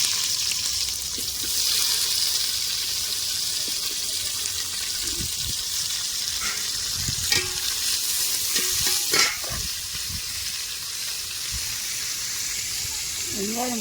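Onions frying in hot oil for mutton dum biryani, a steady close sizzle with occasional stirring clatter and scrapes of a spoon in the pan.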